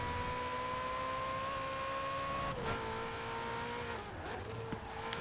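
Racing car engine in Forza Horizon 4 holding a steady tone, then dropping in pitch twice under braking before climbing again on the throttle, with brief tire noise, close and continuous.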